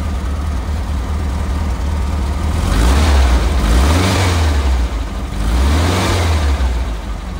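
A 1969 Volkswagen Type 2 T2a Westfalia camper van engine runs close by with a steady low rumble, swelling twice in gentle revs before settling back, heard alone without talking.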